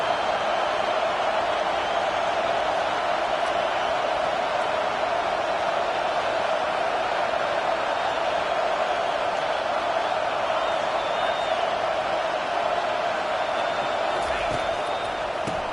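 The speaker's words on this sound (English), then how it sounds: "This crowd going to try to make life miserable for these guys." Crowd noise at a football game makes a dense, steady roar that fills the whole stretch, with a commentator talking over it.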